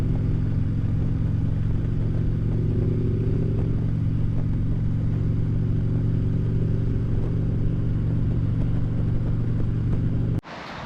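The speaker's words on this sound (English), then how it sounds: "That's my dad riding his car. We got a 38 Chevy." A 1938 Chevy car rumbles steadily and fairly loud with a deep low engine drone, ending abruptly.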